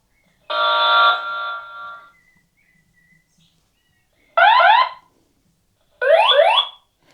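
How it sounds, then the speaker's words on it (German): An X-Sense Link+ smoke detector base station sounds its custom alarm three times: a long steady tone, then two shorter warbling chirps, separated by silence, loud and close. "Ich kann einen eigenen Alarmton für die Basisstation festlegen."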